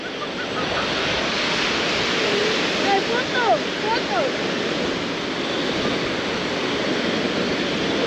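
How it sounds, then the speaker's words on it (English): Ocean surf at Kuta Beach in Bali gives a loud, continuous wash of breaking waves, with a person's voice briefly rising over the steady roar. "Here is the famous beach, Kuta Beach."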